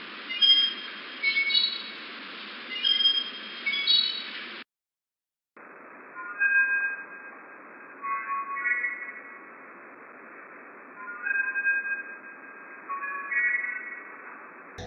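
Slowed-down squeak effect from Half-Life Deathmatch, played at half speed: a looping, warbling electronic chirp that repeats in rhythmic bursts, cut by a short gap of silence midway, then resuming at a slightly lower pitch, with no other sound.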